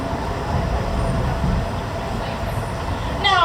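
Bronx Zoo Wild Asia monorail train running, a steady, loud rumble of wheels and car noise throughout, with a brief high squeal near the end.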